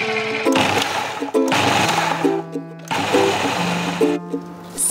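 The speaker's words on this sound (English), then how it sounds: "mix on pulse speed until you have a crumble" A KitchenAid 4L food processor mixing panko breadcrumbs and whole grain mustard on pulse whirs in short, loud motor bursts, stopping and starting three or four times with a steady humming tone between pulses.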